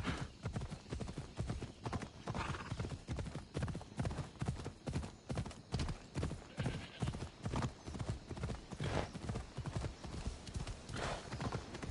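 A horse gallops in Assassin's Creed Odyssey. Rhythmic hoofbeats clop steadily and close throughout, with no pause.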